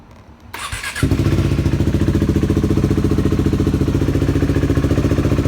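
A KTM 390 motorcycle engine cranks briefly, then catches about a second in and settles into a loud, steady, close-up idle with a fast, even pulsing rhythm.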